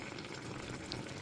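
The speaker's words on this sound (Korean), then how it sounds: "양념에 감자와 양파가 잘 익었으면 생선을 넣고 졸여줄 거예요." Flounder simmers in a braising sauce with potatoes and onions, giving off a faint, continuous bubbling and soft sizzle with no voices.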